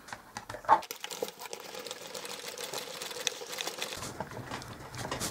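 A card maker's paper plates and embossing folder crank through a manual embossing machine, giving a close run of light mechanical ticking and rattling that continues steadily after an initial clack.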